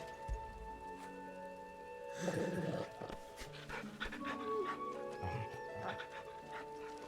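A dog panting while being petted in Final Fantasy 16, quick breathy panting with a few whimpers and soft yips amid game sounds, with a voice speaking partway through.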